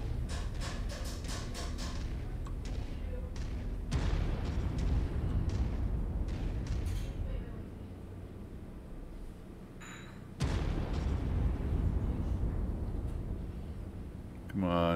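Heavy weapons fire and booming explosions from mech combat in the MechWarrior 5 video game, dense and continuous with repeated thumping blasts and crackling impacts throughout.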